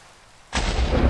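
Rain and thunder in the Minecraft video game set in a Pale Garden world: silence gives way to a sudden loud broadband roar of rain or a thunderclap that keeps rumbling on to the end.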